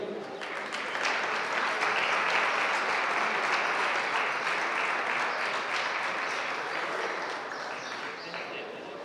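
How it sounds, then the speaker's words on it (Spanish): Crowd applauds at an award presentation during an agricultural and livestock fair in Valle de los Pedroches, sustained even clapping that swells early and slowly eases, with a voice over a loudspeaker mixed in. "Un fuerte aplauso para estos ejemplares"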